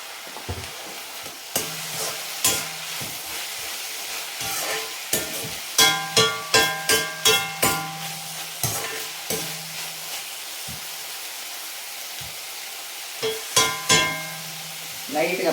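Ivy gourd frying in a pan late at night, a soft sizzle under a run of sharp utensil knocks and scrapes in quick clusters, with a voice speaking now and then.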